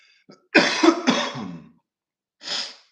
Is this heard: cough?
yes